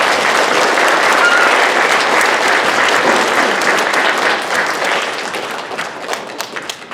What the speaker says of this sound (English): Kids, how about a big round of applause for your teachers and paras?